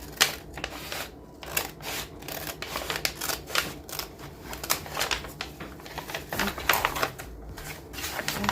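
Scissors cutting across a fabric placemat, a close rapid run of crisp snipping clicks in an uneven rhythm, with no talking.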